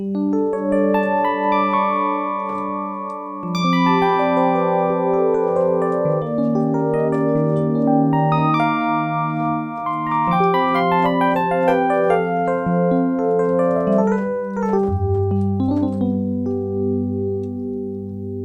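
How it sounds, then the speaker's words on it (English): A bright, bell-like electric piano tone from a Yamaha DX7 synthesizer plays a sustained chordal passage with shifting notes, loud and continuous, no voices. "I think it's the most famous DX7 sound"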